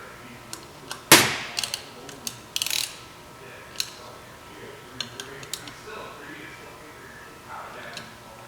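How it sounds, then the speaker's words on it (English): A 4mm Allen key tightens intake screws on a ZZP Sonic cold air intake, giving a run of small ratcheting clicks and metallic ticks, one sharp snap early, close and fairly quiet, with occasional talk. "using the screws provided and your 4mm Allen"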